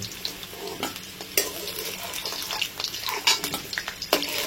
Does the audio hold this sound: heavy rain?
no